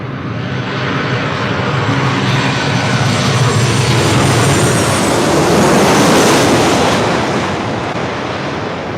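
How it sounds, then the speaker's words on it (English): A Southwest Airlines Boeing 737-800 arriving from Las Vegas at LAX roars past, a loud broad jet rumble that swells to a peak and then eases off. "This is Southwest Airlines 371 coming in from Las Vegas on a 737-800."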